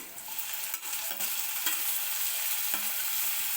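Tomatoes frying in hot oil with softened onion for a cabbage bhaji, a continuous bright sizzle broken by a few scraping stirs of a spoon in the pan, close up with no voices.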